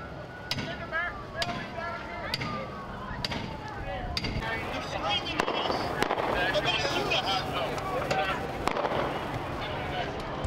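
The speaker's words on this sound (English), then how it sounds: "More gunshots." Gunshots ring out during a night of unrest, sharp cracks arriving singly and in irregular clusters over steady crowd noise and people talking nearby.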